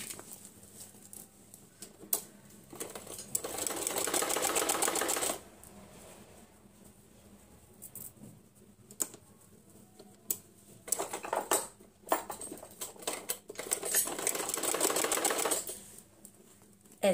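A sewing machine stitches cloth onto the zipper of an old saree bag, running in several bursts of fast whirring separated by pauses with handling clicks and rustles, close and with no talk.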